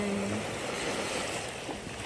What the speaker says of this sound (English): And the waves are coming in.